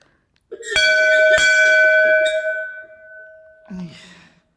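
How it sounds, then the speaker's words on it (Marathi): A metal temple bell rings loudly twice in quick succession, its bright tone ringing on and fading, followed by a short rustle. "या घंटा आहेत पूर्णपणे"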